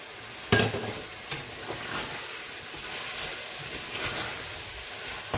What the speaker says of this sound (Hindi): दो तीन मिनट तक भूनने के बाद इसको इसमें हम शामिल करेंगे चिकन जो हमने धो के रखी थी।